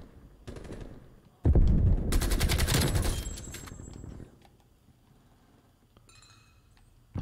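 Sustained automatic gunfire in Call of Duty Black Ops Cold War, a loud rapid burst about three seconds long with clinking metallic tails, then quieter ambience and a faint distant clatter.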